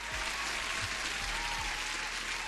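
A canned applause effect played on a live day-trading stream, a short burst of dense clapping at steady loudness with faint low thumps underneath.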